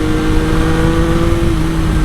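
A Triumph Sprint ST 955i motorcycle engine runs loud and close, a steady droning idle with a slight blip of revs, the tone holding even throughout with no voices.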